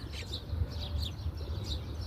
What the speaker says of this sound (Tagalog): pati mga maliliit na ibon pumupunta din dyan